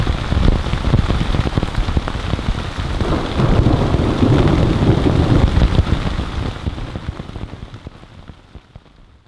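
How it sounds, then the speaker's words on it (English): Heavy rain pelts a camping tarp in a forest during a thunderstorm, with loud rumbling thunder swelling in the middle before the downpour eases and fades toward the end. "our tarp is like drooping enough that it's preventing as much rain from coming in"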